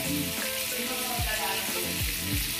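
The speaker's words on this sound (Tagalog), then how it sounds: "Hindi niya alam, pwede mag-ihaw sa kawali." Food grilling in a frying pan in a home kitchen, a steady bright sizzle running throughout with a few soft low knocks and stirs, close and alone with no talk.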